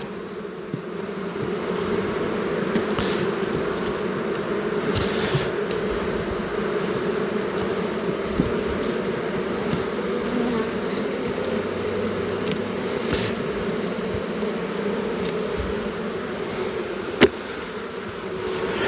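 Dense, continuous buzzing of many honeybees close by at an open hive, a steady drone with occasional louder passes and faint clicks.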